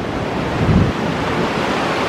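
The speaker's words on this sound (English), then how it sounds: "A little bit windy." Gusty wind blowing across an open riverwalk in Columbus, Georgia, a steady broadband rush with a brief stronger buffet of low rumble against the microphone, no voices.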